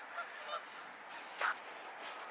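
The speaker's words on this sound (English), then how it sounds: "That's a female duck." A female duck calls out in a few short, honking quacks spaced apart, moderately distant, with no talk over them.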